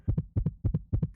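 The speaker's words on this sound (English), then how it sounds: "I can turn off the heartbeat noise. I'm not going to because it sounds cool." Steady double-thump heartbeat effect from a GTA roleplay game, four lub-dub pairs in even rhythm, deep and close, with no talk over it.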